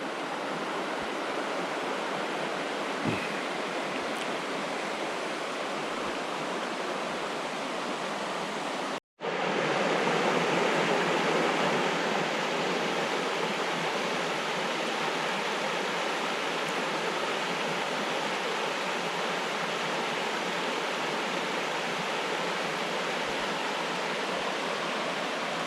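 A river in north Georgia flows in a loud, steady rush of broadband water noise that continues throughout, broken only by a brief dropout partway through, with no voices.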